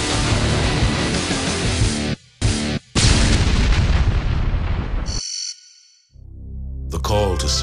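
A military missile launch explosion: loud, dense roaring bursts fill most of the span with brief cutoffs, then a near-silent gap and a renewed burst at the end.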